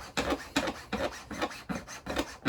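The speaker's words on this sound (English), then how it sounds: "let's push it until it catches on the actual sandpaper itself, and away we go" A modeller's precision multi-angle sander rubs styrene back and forth on sandpaper in a steady rhythm of about seven raspy strokes, close and fairly loud.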